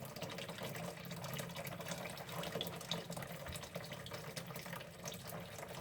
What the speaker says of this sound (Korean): 흐르는 물에 사과를 깨끗하게 씻습니다.